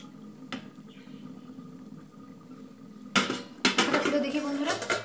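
A metal lid clatters onto a pot of simmering potato curry (aloo dum) on a kitchen stove, a brief clank followed by a burst of rattling metallic knocks after a quieter stretch with a faint early tap.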